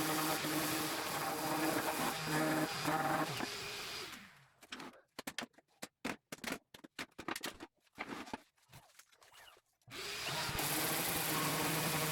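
A power sander works on 2x4 wood parts with a steady whirring drone, then a stretch of short stop-start bursts and gaps before the continuous sanding hum resumes.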